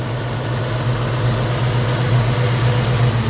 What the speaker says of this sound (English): Motor sounds incredible.